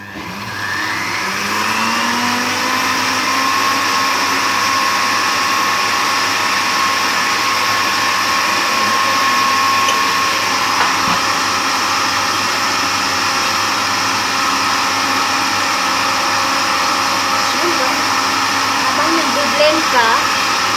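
A blender whirs loudly and steadily for about twenty seconds, mixing a milk mixture for Arabic-style creme caramel.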